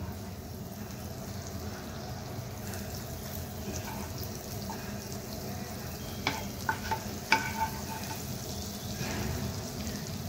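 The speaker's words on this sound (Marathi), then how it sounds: "इथे मी नॉनस्टिक पॅन घेतलेला आहे, त्यात मी आता बटर घालते।" Butter melting in a nonstick pan gives a low, steady sizzle, with a few short clinks and scrapes near the middle and no talk.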